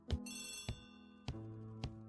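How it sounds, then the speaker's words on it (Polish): Old-style telephone ringing in the Agatha Christie ABC Murders video game, four sharp bell-like rings spaced about half a second apart, clear and fairly loud with no voices. "Odbierz telefon."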